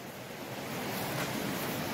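The Melen River flows beside a roof-tent campsite, a steady, even rush of water heard alone at moderate distance without any pauses.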